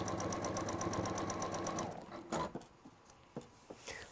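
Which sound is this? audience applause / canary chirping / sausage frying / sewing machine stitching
sewing machine stitching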